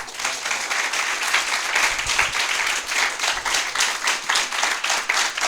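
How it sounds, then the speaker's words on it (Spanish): Audience at an engineering lecture on wire electrical discharge machining gives a round of applause, a steady clatter of many hands clapping at close range with a faintly pulsing rhythm and no speech over it. "Les pido que le damos otro aplauso."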